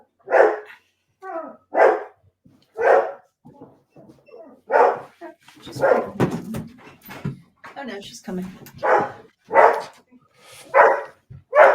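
A dog barks repeatedly in short bursts, fairly close, while several people talk over and between the barks.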